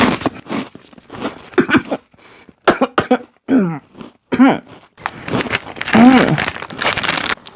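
Coughing and throat clearing set off by the powder on Flaming Hot Sabritones snacks, as several sharp close coughs in bursts with pauses between, mixed with crinkling of the snack bag and brief voice sounds.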